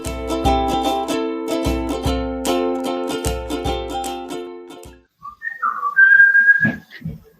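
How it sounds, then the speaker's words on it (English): A person whistles a lively melody loud and close, with sustained pitched notes over percussive backing music for about five seconds, then a short separate whistle and some rustling near the end. "That is a great amount of whistling."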